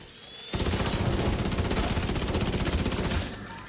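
Minigun fire in the video game Exoprimal, a loud, sustained rapid rattle of shots running for about three seconds without a break, then trailing off.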